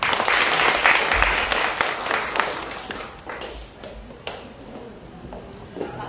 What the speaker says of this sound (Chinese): 我们再以热烈的掌声欢迎一下各位老师